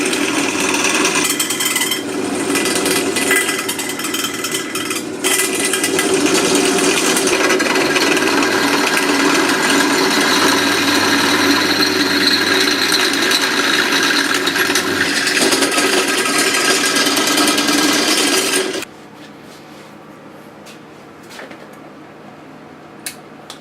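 A power drill bores holes with stepped bit sizes for a homemade camera jib, grinding loudly and continuously for most of the stretch before cutting out to quieter room sound.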